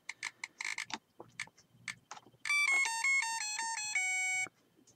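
Epoch's Dracula electronic handheld tabletop game lets out a loud, shrill electronic warning: a run of stepped beeping tones, sustained for about two seconds, after a scatter of shorter chirps and clicks.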